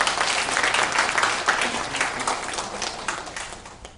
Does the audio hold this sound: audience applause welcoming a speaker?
yes